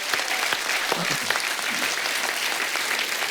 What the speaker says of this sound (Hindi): तो जोरदार तालियां हो जाएं आज।